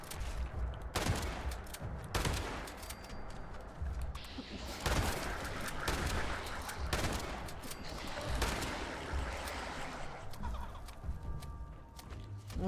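Rifle gunfire in the video game Fallout 76 comes as repeated sharp cracks spaced a second or two apart over a busy game background, fairly loud and close, with no speech.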